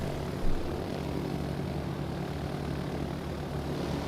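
Torpedo bomber aircraft launching from a carrier in the naval combat game World of Warships: Legends make a steady, loud propeller-engine roar, with a brief swell near the start before settling into a continuous drone.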